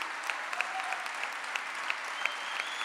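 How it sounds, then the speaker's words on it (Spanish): An audience at a gathering applauds, sustained moderate clapping with scattered sharper individual claps and a faint whistle-like tone, no talk. "Yo les pido un aplauso para todo el equipo de Lecuni."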